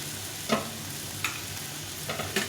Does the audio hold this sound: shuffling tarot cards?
no